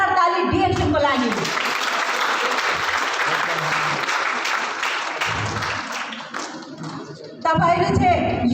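Loud, sustained audience applause at a DXN distributor success event in Nepal, steady clapping filling most of the clip, dipping briefly before a fresh burst near the end, with a voice speaking at the start.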